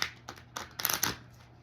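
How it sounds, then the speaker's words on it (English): A new, stiff deck of cards being shuffled in several quick riffling bursts, each a crisp flutter, close and fairly loud, with a brief pause between the first few. "So hard to shuffle these new freaking decks."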